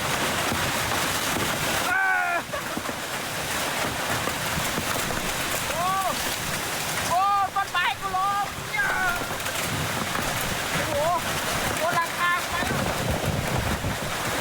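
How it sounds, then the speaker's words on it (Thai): Strong storm wind roars steadily at a house during a hailstorm, buffeting the microphone, while a person talks intermittently over the rush. "ลมแรงนะ"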